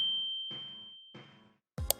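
A bright notification bell dings at the start and rings out with a long, fading tone, followed by a few soft muffled bursts and a sharp clatter at the very end.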